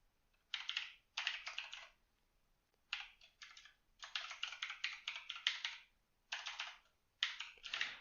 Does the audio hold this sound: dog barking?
no